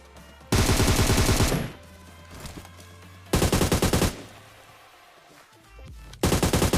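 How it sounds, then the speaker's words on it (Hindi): Automatic weapons fire in PUBG Mobile comes as three long, loud bursts of rapid shots, close by, with short quieter gaps of faint game ambience between them and no talk. "भाई साइड से इतना फायरिंग चलने लगती है"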